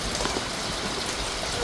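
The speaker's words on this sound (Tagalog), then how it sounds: "Kumbaga yung ulan po is tuloy-tuloy po siya." Steady rain falls and patters on surfaces in a continuous, even hiss, close and fairly loud, with no breaks.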